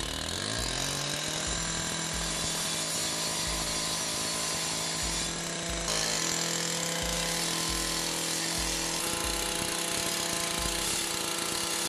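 A petrol cut-off saw's two-stroke engine idles at tick-over, a steady close buzzing drone with a regular low pulsing throb and a slight shift in tone midway.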